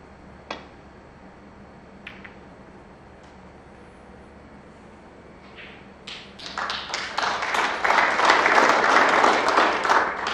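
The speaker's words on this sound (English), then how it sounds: "worthy round of applause" Scattered taps at first, then a burst of applause at a snooker match, the 2021 Champion of Champions, builds from the midpoint and carries on steadily, moderately loud and close, with no talking.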